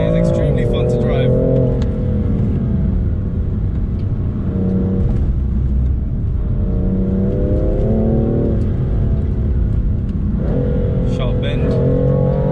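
A BMW M4 or M5 Competition drives along with a steady engine drone and rising revs under acceleration, heard from inside the cabin, with a voice talking over it much of the time.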